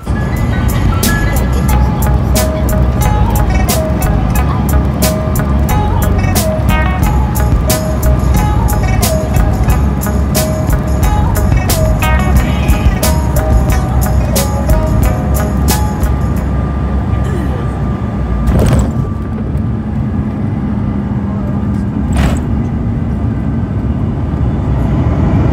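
A steady engine drone fills the cabin of a United CRJ700 jet taxiing to the gate at Los Angeles, constant and loud throughout, with repeated short ticking clicks over the first part.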